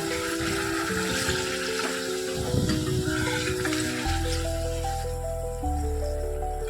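Mutton for biryani, seasoned with rose water and kewra water, sizzles and hisses steadily in a hot pan amid stirring scrapes, with a music bed running underneath.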